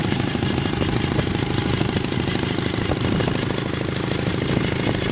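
A pre-war BMW R 32 motorcycle engine runs steadily with a rapid, even knocking putter, close and continuous with no pauses, on a slightly rising road.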